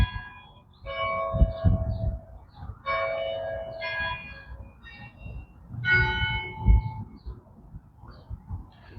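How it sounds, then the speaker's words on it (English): The bell of Trinity Lutheran Church in Detroit, Michigan rings out in three or four resonant tolls spaced a couple of seconds apart. Each strike carries a long humming decay and is heard outdoors at moderate distance. "That bell actually really works."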